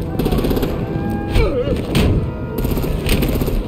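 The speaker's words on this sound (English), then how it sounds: "Break out the artillery!" Gunfire and artillery booms in the game Batman The Enemy Within, loud and continuous, with thumping impacts and overlapping shots behind game voices.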